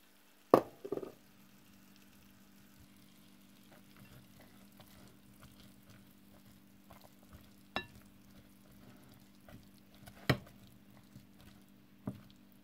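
Beef and onions fry quietly in a pan with a soft, steady sizzle, broken by a few sharp clacks of a utensil stirring against the pan.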